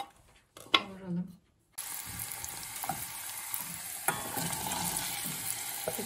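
Onion sautéing in olive oil, a loud sizzle bursting in after a short silent gap and continuing as a steady crackling fry with clattering stirring sounds; a few brief noises come before it.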